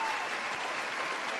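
Steady, continuous applause from a crowd during a livestream of a live-action pianist game, even and unbroken throughout without distinct individual claps.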